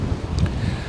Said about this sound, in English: It's not easy in this wind.